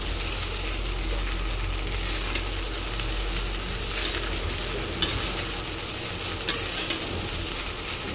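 Tempered khichdi rice frying crisp in a pan, a steady close sizzle with occasional scraping stirs and light clinks of a spoon, no voices.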